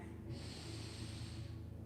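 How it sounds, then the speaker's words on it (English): A person draws in a short extra sniff of air through the nose during yoga breathing, a soft, steady nasal hiss lasting about a second, close and quiet. "Maybe see if you can sniff in a little more air."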